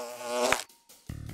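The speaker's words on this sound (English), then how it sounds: "Oh, bees!" Bees buzz in a Ben 10 video game (2017 reboot), a loud whining drone that swells for about half a second, cuts off, then returns briefly in choppier bursts.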